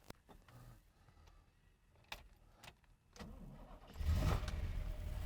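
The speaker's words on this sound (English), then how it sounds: "let's fire this bad boy Corvette up and let's hear it rumble" A few soft clicks and whirs, then a 1965 Corvette Sting Ray's 396 big-block V8 cranks and roars to life, the engine swelling loud and rumbling close by.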